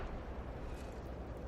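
Explosive tank cannon fire and shell impacts on tanks in a tank combat video game, a continuous dense rumble of blasts and booms held at a steady level throughout.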